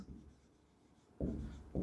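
Marker or chalk scratches on a classroom board in two short strokes near the end, close and soft, after a quiet pause.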